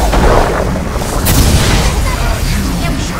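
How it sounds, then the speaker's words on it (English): A heavy in-game explosion booms as a tower is destroyed in a Dota 2 match, a dense rumbling blast with crackling bursts sustained for a few seconds amid game noise. "Dire's bottom tower has fallen"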